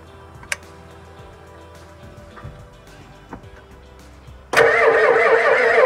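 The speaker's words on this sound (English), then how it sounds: "Let me crank it in here and see if I can get some air out of the system." A 1989 Ford F350 with a 7.3 diesel engine, being worked on for stalling on deceleration, sits with a few faint clicks and taps before the engine catches suddenly and runs loud and steady at close range.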